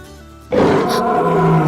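Tiger roar bursts in suddenly after a quiet moment, then a loud, close, sustained growling rumble fills the rest of the scene in a comedy film.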